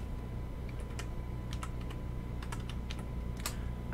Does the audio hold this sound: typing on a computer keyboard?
yes